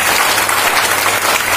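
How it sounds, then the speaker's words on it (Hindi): Dense, loud applause from an audience fills a meeting hall at a district foundation day celebration, a steady continuous clatter of many hands that cuts off sharply at the end. "ताली बजा दिया जाए। जोरदार ताली"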